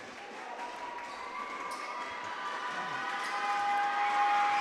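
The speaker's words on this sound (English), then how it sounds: "Crowd making a ton of noise" A basketball crowd at an Indiana Lyons versus Peoria Pitbulls game grows steadily louder, a distant murmur building into sustained cheering, with a whistle-like tone near the end.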